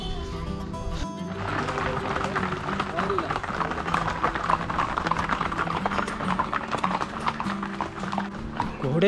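Hooves of horses and mules clip-clop steadily along a busy, dusty road in Matheran hill station, several animals walking close by, with people talking and traffic noise underneath.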